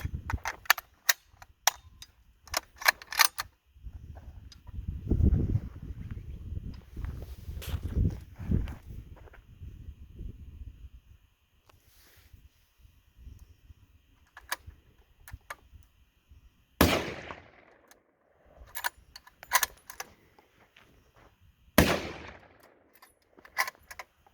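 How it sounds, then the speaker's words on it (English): A Savage 110 precision rifle fires 150 grain rounds outdoors: two loud, sharp shots several seconds apart, with rapid clicking, rustling and handling noises in between and before them, and no speech. "So just shooting a couple of these 150 grains here."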